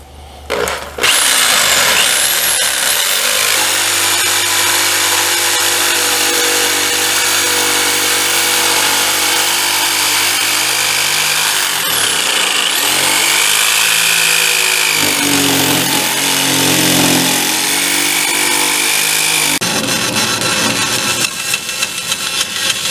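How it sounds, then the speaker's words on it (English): A corded electric jigsaw cuts oak and marine plywood for a step stool, its loud continuous motor whine and blade chatter running nearly unbroken, with a short pause partway and shifts in pitch as the cut proceeds. "today, just for the fun of it, I'm going to use the corded version"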